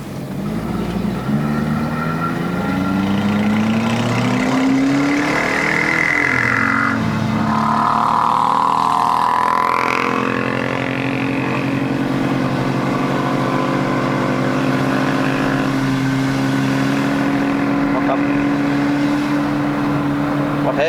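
A Perodua Bezza 1.3L fitted with a bolt-on turbo strains uphill in first gear, its engine droning steadily and rising in pitch, loud and close from inside the cabin throughout.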